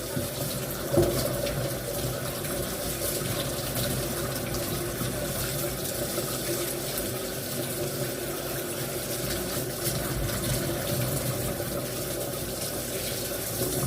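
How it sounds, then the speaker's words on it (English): Tap water runs steadily into a sink while greens are washed, a continuous close splashing gush with faint handling sounds and no talking. "So I'm just continue washing."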